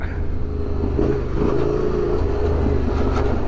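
A bigger adventure motorcycle rumbles steadily over braking bumps on a National Forest trail, its engine loud and close with continuous droning and slight surges as it rides.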